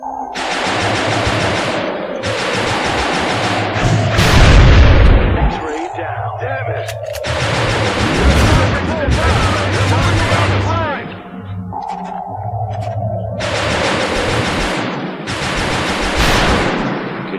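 Gunfire in the X-COM: Enemy Unknown video game, with repeated loud shots and booming blasts in several bursts across the clip, over a steady low game soundtrack.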